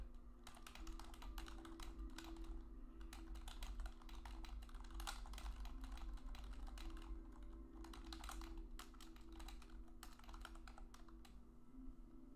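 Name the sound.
typing on a computer keyboard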